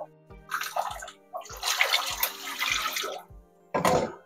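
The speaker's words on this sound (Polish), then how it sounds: "daję 2 litry wody" Water, about two litres for each kilogram of rice, gushes into a cooking pot in a steady pour with a few brief breaks, fairly close.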